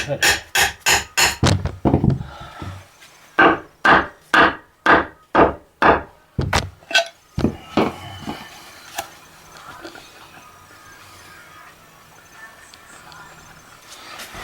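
Sharp metal hammer blows strike a stuck bolt on a 2009 Subaru Forester. About fifteen close, loud hits land in quick bursts over eight seconds, then give way to quiet handling noises.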